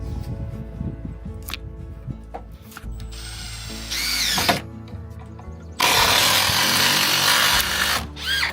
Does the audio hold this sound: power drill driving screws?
yes